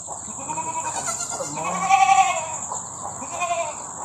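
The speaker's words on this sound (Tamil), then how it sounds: "இப்போதைக்கு பாத்தீங்கன்னா வெறும் ரெண்டே ரெண்டு வெள்ளாடு வச்சிருக்காங்க. அதோட குட்டி தான் இது நம்ம கையில இருக்குது." A young goat kid, held in someone's arms on a farm, bleats continuously in a wavering, nasal cry that rises louder midway, close to the listener, with no talk.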